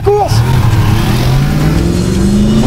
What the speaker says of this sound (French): Nous roulons à 80 km/h quand une moto nous dépasse à très grande vitesse.